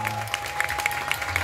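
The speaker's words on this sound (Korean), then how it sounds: "박수 한번 주세요" Guests clap at a birthday party where a children's performance troupe is present, a brief patter of applause with faint voices and background sounds underneath.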